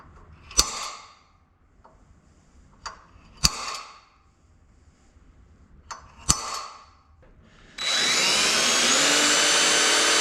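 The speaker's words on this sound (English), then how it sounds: "we need to go ahead and take care of those holes I need to drill" Three sharp metallic impacts spaced a few seconds apart, then a power drill starts up and whirs steadily at a high pitch, drilling holes in a Stohr WF-1 race car with carbon fiber panels.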